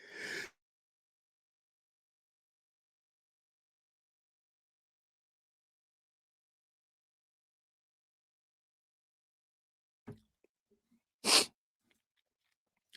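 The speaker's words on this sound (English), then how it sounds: "Let me sneeze real quick." A single short, sharp human sneeze bursts out amid near silence, preceded by a brief faint sound at the start and a small rustle just before.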